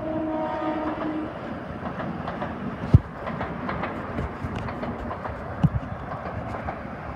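MTA Long Island Rail Road M7 electric commuter train passing in Queens, New York: a steady rolling rumble with humming motors, wheel clatter and two sharp clicks from rail joints or the pantograph, heard alone without voices.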